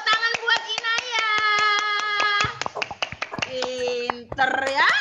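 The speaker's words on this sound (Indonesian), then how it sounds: "Tepuk tangan buat Inaya." Elementary school pupils in a classroom at SD Muhammadiyah 1 Panarukan clap their hands in a fast, rhythmic patter for a classmate while children's voices chant along loudly, ending in a brief burst of cheering.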